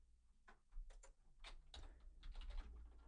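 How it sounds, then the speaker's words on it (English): Keys clatter on a computer keyboard while a line of code is entered, a short run of close, quiet clicks in uneven bursts with no talking. "So we're going to type in the word print."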